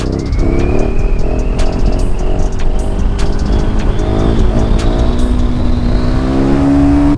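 A KTM 1290 Super Duke R motorcycle engine revs loud and close, its pitch climbing and falling through repeated throttle blips over a steady rumbling idle.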